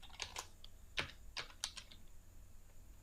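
Quiet, close computer keyboard typing while entering HTML table code, a handful of crisp irregular keystrokes in short bursts with pauses between.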